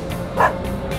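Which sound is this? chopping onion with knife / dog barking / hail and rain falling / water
dog barking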